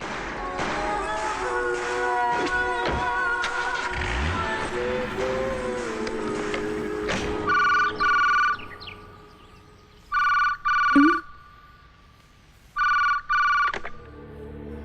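A telephone rings in a residential setting, repeating electronic ring bursts in a regular pattern, fairly close and clear, following a stretch of busier mixed sound and a brief low thump.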